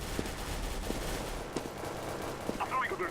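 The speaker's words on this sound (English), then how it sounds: "A little gun battle going on there." Gunfire in a CS:GO gun battle, several sharp shots spaced irregularly over a busy background, with faint talk mixed in.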